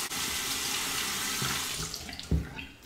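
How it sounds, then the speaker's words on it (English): Hot tap water runs steadily into a shaving palm bowl, a close, continuous splashing stream with a brief clunk near the end. "I'm gonna run this palm bowl under the hot water."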